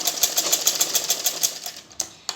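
A sewing machine stitches the sleeve of a 42-inch blouse in a fast, even run of close mechanical ticks, then stops and gives a couple of separate clunks.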